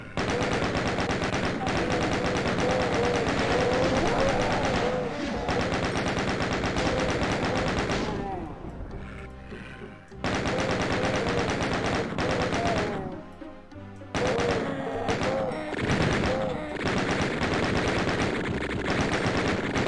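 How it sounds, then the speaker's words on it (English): In Doom II, a chain gun fires long rapid continuous bursts, loud and close, broken by two brief pauses before hammering on again. "Give me the chain gun."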